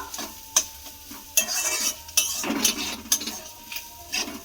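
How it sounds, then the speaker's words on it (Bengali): A spatula stirs cumin, ginger, garlic and green chilli in a hot pan, with sharp scraping strokes recurring at a steady pace over a soft, continuous sizzle. "জিরে দিয়ে আমি আবারও একটু মিশিয়ে নেবো"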